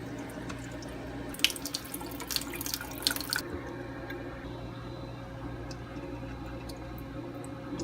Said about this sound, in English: Just letting the water run over all the seeds.